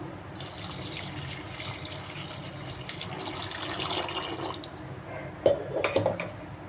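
About a litre of water pours steadily into a pot of sweet corn vegetable soup with a soft rushing splash, then a metallic clink and a few sharper splashes near the end.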